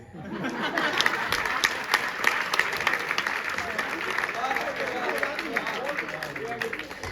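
Audience applause at a Hindi poetry recital (kavi sammelan) in a college hall in Panipat, a sustained mix of clapping and crowd chatter with scattered laughter, fairly close and continuous.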